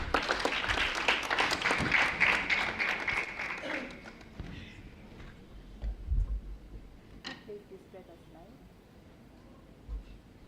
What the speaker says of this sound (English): Let's all clap for ourselves for reaching here.